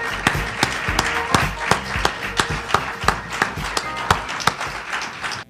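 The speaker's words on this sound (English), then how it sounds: "Thank you very much for that much appreciated applause" Audience applause greets a speaker, Dr. Claude Anderson, coming to the podium: a spread of sharp, distinct claps at an uneven rhythm from a modest crowd, fairly close and clear, with no talking over it.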